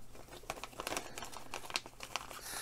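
Plastic packaging crinkles and tears as parts of a Shelby Cobra model kit are freed on a carpet, a busy run of sharp rustling crackles close up with no talk.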